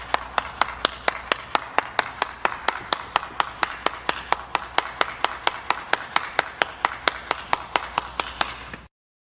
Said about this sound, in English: So I'm applauding her.